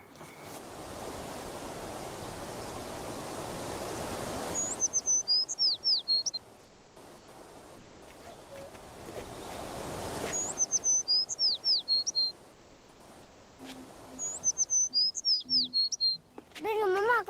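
A little bird chirps in quick bright trills in a children's story about a snail and a bird, the calls coming in three clusters between stretches of wave-like whooshing.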